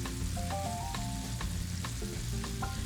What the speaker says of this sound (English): We're gonna add our green onion to the pan.